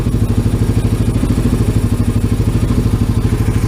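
A rebuilt Honda Rubicon ATV engine runs at a fast, even idle right after its first start, a loud close chugging pulse with rattling clatter and no talking.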